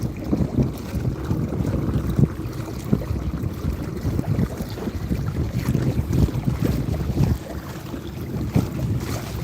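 Electric trolling motor on a modified kayak driven at full power, a steady low churning hum with water wash and gusting wind noise throughout.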